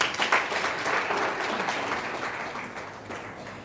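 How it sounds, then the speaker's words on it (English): An audience at a live company event applauds briefly, a moderately loud burst of clapping that gradually fades over a few seconds. "Clap for these guys."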